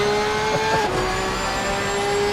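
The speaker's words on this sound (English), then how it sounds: "So now watch the Lamborghini pull away." A Lamborghini GT3 race car pulls away in a sim racing game at Laguna Seca, a steady, loud engine drone holding a high pitch alone, with a faint whoosh of a passing car.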